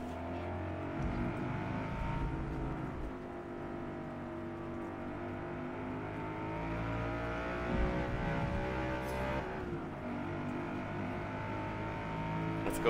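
BMW and Audi race cars in the Forza Motorsport video game, engines revving and shifting through gears in layered, continuous tones without pause.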